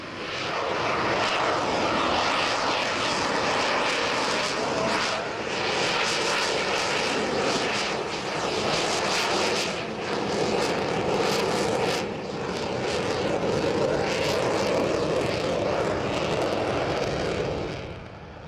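A Spanish Air Force EF-18 Hornet jet roars at an air show, a loud, continuous rumble lasting throughout with slight surges in intensity and no talk.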